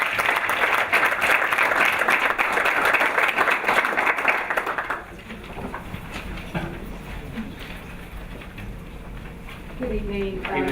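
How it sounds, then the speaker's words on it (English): Audience applause at an evening school board of education meeting, a dense, steady clapping that fills the room for about five seconds before fading into quieter room noise and faint murmuring. "Can we give her a round of applause?"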